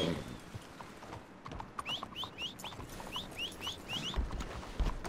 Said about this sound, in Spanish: Hay un caballo ahí, güey.